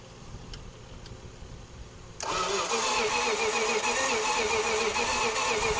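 A 1969 Plymouth Fury III engine cranking and struggling to catch: a quiet lead-in, then a sudden loud, steady churning that holds to the end, close by.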